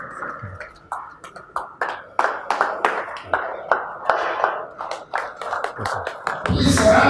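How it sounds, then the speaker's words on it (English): Audience applause after a speech at a book launch, distinct individual claps in a steady irregular patter, fairly close, building briefly into a denser burst at the end. "Please, a round of applause once again to wonderful speech."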